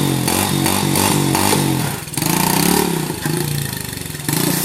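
A dirt bike engine revs hard for a wheelie, close and loud: a throbbing, pulsing drone that dips briefly near two seconds, then surges again in uneven revs, no talk over it.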